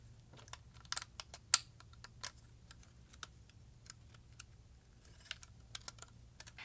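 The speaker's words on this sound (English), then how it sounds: "clip the drive into the mounting sled" A hard drive is clipped into a plastic drive mounting sled, giving a few faint, close clicks and snaps, with one sharper click early on, over a quiet background.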